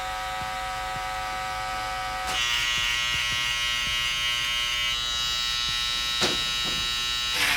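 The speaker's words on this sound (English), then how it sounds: "we can go ahead and use the shaver" An electric shaver buzzes steadily up close during a fade haircut on straight hair, its pitch shifting as it presses against hair, with brief scraping and clicks.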